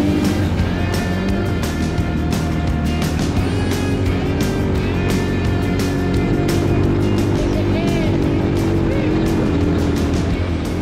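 A small 8-horsepower mini jeep engine labours continuously while climbing a steep snowy hill on remote terrain, a steady loud droning rumble with rising and falling revs throughout.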